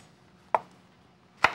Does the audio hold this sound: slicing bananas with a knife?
yes